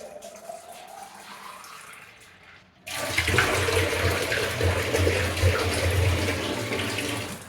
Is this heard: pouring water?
yes